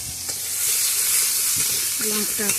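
Turmeric frying with pumpkin greens in a pan, a steady bright sizzle with stirring scrapes throughout, close and fairly loud, with faint voiced sounds near the end.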